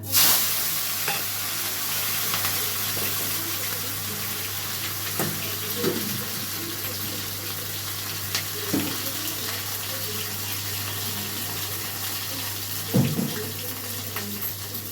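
Tomatoes and green chilies hit hot oil in a home kitchen pan, giving a steady, moderate sizzle with occasional soft clinks and stirring sounds.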